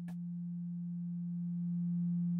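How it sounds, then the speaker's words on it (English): A synthesizer sine wave plays through an AI022 harmonic mixer as one pure, steady tone, held evenly for about two seconds and rising slightly in level, with a brief click at the start. "So here's our first sine wave"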